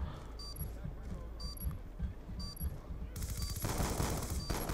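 Gunfire in the video game Call of Duty Black Ops 2, repeated automatic bursts and rapid shots at a steady moderate level, with game effects layered over the shooting.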